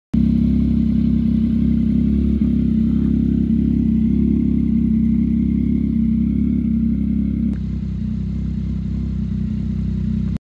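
A Yamaha MT-09 motorcycle engine runs steadily with a deep, continuous mid-range drone and faint mechanical clatter, loud and close throughout, easing slightly in level toward the end.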